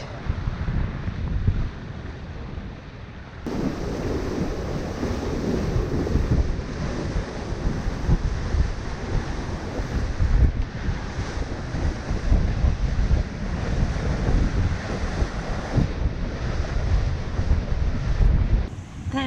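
Strong wind at sea roars across the microphone aboard a Hallberg-Rassy 54 yacht under sail in about 15 knots off Montserrat, with steady rushing water and waves beneath a constant, loud blustery buffeting.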